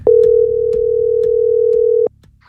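Steady telephone dial tone sounding continuously for about two seconds as a call is placed, loud and alone, with faint clicks underneath before it cuts off.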